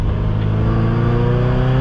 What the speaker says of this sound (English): you can be going slow and just kind of get up in the RPM